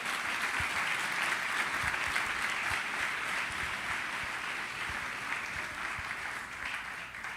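Sustained applause from a church congregation during a Sunday service, steady dense clapping filling the room for several seconds and slowly easing.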